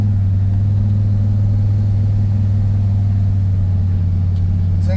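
A turbocharged LS-powered farm truck drones loudly and steadily at high revs during a smoky burnout, its deep, constant engine tone filling the cabin with no voices heard.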